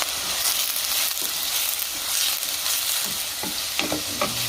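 Onions and spices being stirred with processed tomatoes in a pot for homemade tomato sauce: steady close sizzle with scraping spoon strokes, a few sharper scrapes toward the end, no voices.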